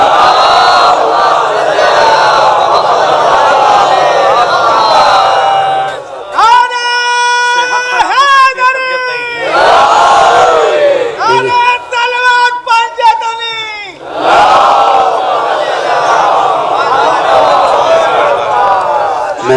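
A large crowd recites salawat together in loud unison, in repeated chanted bursts separated by short pauses, with a continuous crowd murmur between the lines.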